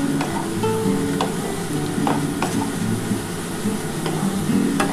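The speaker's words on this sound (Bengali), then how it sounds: "আমার কিন্তু পেঁয়াজটা কিন্তু ভাজা হয়ে এসছে" Onions frying in oil in a home kitchen while making egg chicken biryani, a steady close sizzle with occasional stirring scrapes and clinks, no talking.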